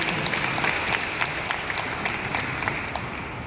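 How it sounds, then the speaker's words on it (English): An audience at a Tourism Promotions Board event claps in a steady round of applause, many hands close together, continuous for a few seconds with no voices. "Let's please give a round of applause to our administration."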